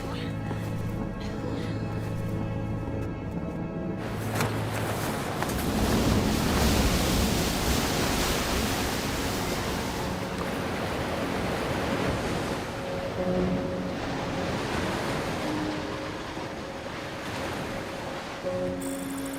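Ocean waves and wind at sea surge in a continuous, broad roar that swells and eases, with low background tones underneath.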